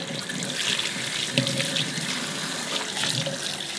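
Squid rinsed under a running kitchen tap, a steady close hiss of water into a sink with small splashes and a few soft knocks as it is handled, no talking.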